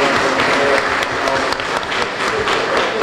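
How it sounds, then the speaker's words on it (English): Audience at a city council meeting breaks into steady, dense clapping that holds loud and even throughout, with no one speaking over it. "They were clapping for you"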